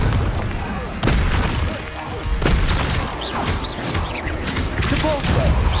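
Confringo fire spells explode in the video game Hogwarts Legacy, with repeated booming blasts and crashes layered over a dense, chaotic din of battle effects.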